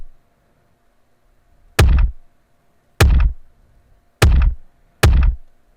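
Beat built from sampled Craftsman tape measure sounds: four heavy, punchy thumps with sharp attacks and short decays, spaced about a second apart, with no talk.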